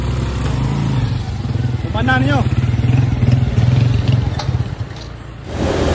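A motorcycle engine runs steadily up close with a low, rumbling drone throughout, while people talk over it and the engine note shifts near the end.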